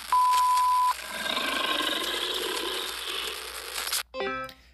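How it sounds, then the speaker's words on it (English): A single steady electronic beep sounds at the start, followed by faint hiss and a brief clatter of mechanical clicks at the end. "You can leave a message after the beep."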